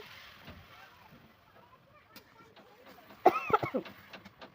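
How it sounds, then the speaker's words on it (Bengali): Coughing from someone in smoke from a wood fire during home cooking, a short burst of several harsh coughs near the end after quieter background sounds and faint voices. "খড়ি দিয়ে ধুমো বেরোচ্ছে আর কাশি যাচ্ছে"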